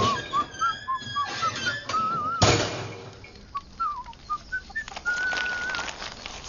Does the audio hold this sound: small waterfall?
no